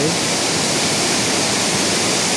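Phon Phop waterfall at Phu Kradueng pours in a steady, loud, close rush of falling water with no break.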